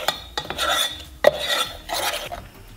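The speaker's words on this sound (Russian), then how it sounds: "И опять хорошенечко смешиваю." A spoon or whisk works through a cake mixture with sour cream in a bowl, making rhythmic scraping and rubbing strokes with a few sharp taps against the side, close and fairly loud.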